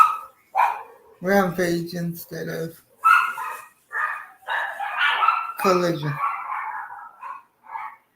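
Dogs barking indoors at home, several short sharp barks and yips in bursts, loud and close, breaking in between stretches of someone talking.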